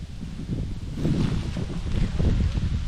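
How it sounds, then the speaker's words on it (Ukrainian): Gusty wind rumbling and buffeting outdoors in a forest by a road, a low, continuous rush with faint rustling, no voices. "Вітер такий собі дує."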